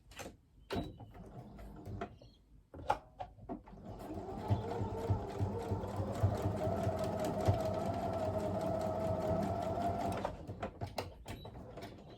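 A sewing machine stitches quilt fabric for a star block, running in a steady mechanical whir for about six seconds between scattered clicks and fabric handling before and after.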